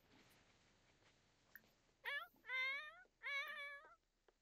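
A pet cat in The Sims 4 meows three times in quick succession, each a clear, drawn-out, rising and falling cry, over a faint background with no talking.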